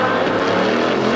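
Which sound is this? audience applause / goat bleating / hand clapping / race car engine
race car engine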